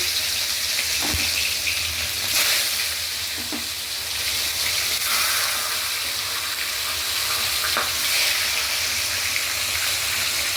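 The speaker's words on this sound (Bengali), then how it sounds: "মাথাটা আগে ভালো করে ভেজে দিচ্ছি" A hilsa fish head fries in hot oil in a pan, giving a steady close sizzle with a few soft clicks and stirring knocks scattered through it.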